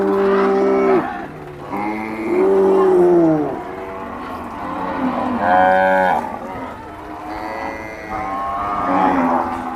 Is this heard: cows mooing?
yes